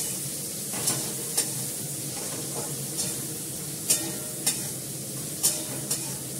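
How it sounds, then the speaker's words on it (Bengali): Fresh small local tangra fish with lightly fried potato, ginger, garlic, onion, turmeric and salt sautéing in a pan: a steady close sizzle, with sharp scraping stirs recurring every second or so. "মাছটা কিন্তু আমি ভাজবো না, এখানে দিয়ে ভালো করে কষাবো।"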